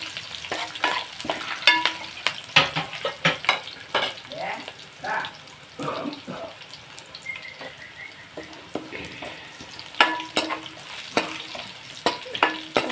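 Cumin seeds and dried red chillies sizzle and crackle in hot oil in a home kitchen, with steady frying hiss and scattered sharp pops, fairly close, as an evening poha snack is being prepared.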